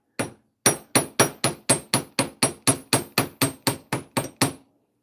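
A hammer strikes metal to work-harden it, about fifteen sharp ringing blows in a quick, even rhythm, close and loud, after a single opening hit and a short pause.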